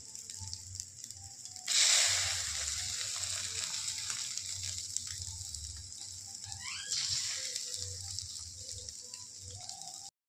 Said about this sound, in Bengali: এবার ডিমটা অ্যাড করছি।